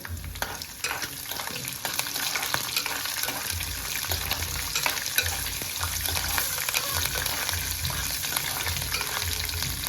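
Finely chopped green chillies fry in hot oil while making avalakki (kanda poha), giving a steady, close crackling sizzle with intermittent stirring scrapes throughout, no voices.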